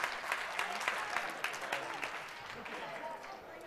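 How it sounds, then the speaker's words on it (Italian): A small audience at a football event claps in a dense burst of applause that slowly thins out, while a voice talks over it. "applauso lo stesso che sennò voi va a casa tutto triste"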